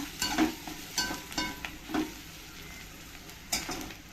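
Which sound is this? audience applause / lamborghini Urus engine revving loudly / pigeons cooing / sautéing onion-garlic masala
sautéing onion-garlic masala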